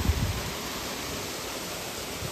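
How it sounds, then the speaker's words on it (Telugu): Water flows continuously at the source of the Krishna river in the hills, a steady, even broadband rush with no talk. "just enjoy that sound of water"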